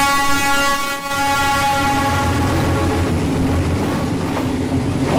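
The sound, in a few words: train passing close by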